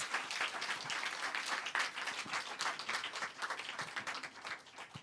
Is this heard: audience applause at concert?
yes